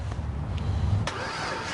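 Car engine cranking and catching on a freshly fitted new battery, a short churn that turns into a running rumble, heard alone at moderate level.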